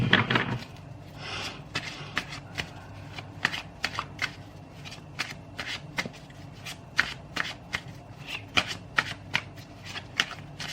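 Tarot cards shuffled by hand in a quiet room, a steady run of crisp riffling bursts and soft slaps spread across the whole stretch, close and moderately loud with no voices.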